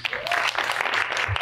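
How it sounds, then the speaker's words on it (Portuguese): Brief applause from an audience at a Brazilian talk with a director and actress, a short burst of clapping with voices mixed in. "E palmas mais uma vez"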